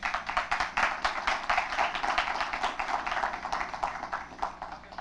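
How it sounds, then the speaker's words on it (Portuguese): Audience applause for an invited lawyer at a professional football athletes' law event, a steady dense clapping that fills the room for the whole stretch, fairly loud and even with no talk over it. "Salva de palmas."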